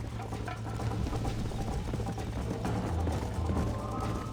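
A horse gallops steadily through a Red Dead Redemption ranch scene, its hooves drumming in a continuous close rhythm over a low mechanical hum, with no talk.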